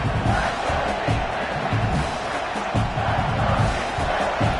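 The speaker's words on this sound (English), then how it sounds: "This crowd knows they have to bring it in big moments" A football stadium crowd at a league game roars steadily and loudly, a dense wash of cheering and whooping that holds through a big moment without a break.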